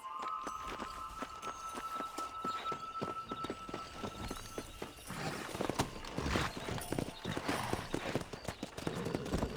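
Horse hooves clip-clopping in a steady galloping rhythm during a ride in the video game Red Dead Redemption, loud and close, with occasional whinnies and background game ambience.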